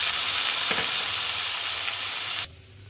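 Vegetables tossed into hot oil in a wok with chopped garlic and ginger, a loud close hissing sizzle with stirring scrapes that cuts off abruptly near the end.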